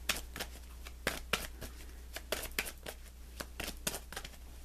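Tarot cards being shuffled and drawn, close and quiet, a run of crisp riffling snaps and flicks in irregular bursts, with no voice heard.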